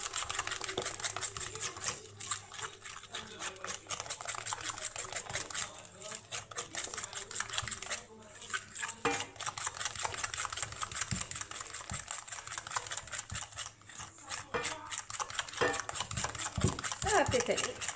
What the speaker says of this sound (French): je vais faire un petit coup de robot plongeant